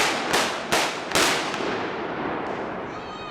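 Firecrackers explode at the Fallas in Valencia during a daytime display: three loud sharp bangs in quick succession, each leaving a rumbling tail, then a fainter pop and a fading crackle.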